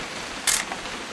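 A single camera shutter snaps once in What Remains of Edith Finch, a short crisp click over a quiet background hiss.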